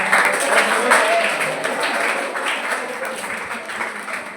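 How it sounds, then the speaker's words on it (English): A seminar audience applauds, with a dense, continuous round of clapping filling the room, fairly loud and steady and gradually thinning toward the end. "Please give a big round of applause."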